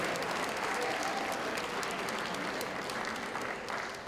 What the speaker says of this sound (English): Now I want the graduates to give the audience a round of applause